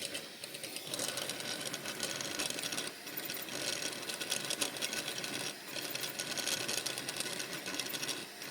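A 3D printer runs a 3DBenchy at high speed, with toolhead moves up to about 1,000 mm/s and tuned-down motors. It gives a dense, continuous mechanical whir and buzz, steady and fairly loud, with brief dips as the motion changes.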